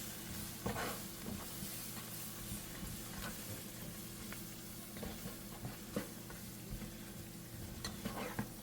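Garlic and onions stirred in a pot with a little flour for pot roast gravy, a faint, steady sizzle and bubbling with occasional soft scrapes and taps of the spoon.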